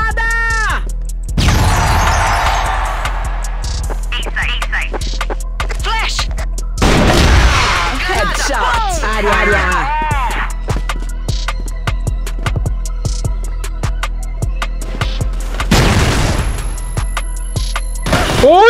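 Grenade blasts and gunfire in the shooter game CrossFire: dense, loud volleys of shots with booming explosion bursts around 2 and 7 seconds and again near 16, layered with game effects and voices.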